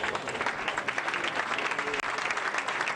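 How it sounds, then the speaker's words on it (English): Applause fills a stadium at the men's final of the 2010 AMF World Cup, a dense, steady roar of clapping that holds for the whole stretch. "deserved applause rings round the stadium"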